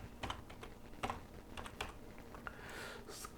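Typing a Google search for an Instant Data Scraper Chrome extension on a computer keyboard, with scattered close keystrokes in small clusters, moderately loud, then a brief soft hiss near the end, no voices.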